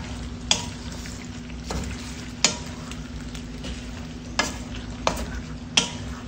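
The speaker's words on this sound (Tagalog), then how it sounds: "Haluin natin yan." A utensil stirs chicken curry with chili leaves, pechay and young onion leaves in a sizzling pan, with steady frying hiss and periodic scraping knocks against the pan, close and alone.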